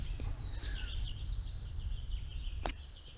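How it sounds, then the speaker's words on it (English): Faint bird chirps and short song phrases over a steady low rumble of wind or background noise in Valley of Fire State Park, Nevada, a desert setting, with one brief sharp click late in the clip. "relax, listen to the bird sing, and enjoy this."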